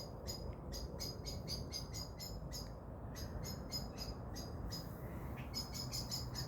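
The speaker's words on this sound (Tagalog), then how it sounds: "Ingay ng ibon, no." Birds chirp in quick repeated bursts of high, bright calls, with short pauses between phrases over a low, steady outdoor background.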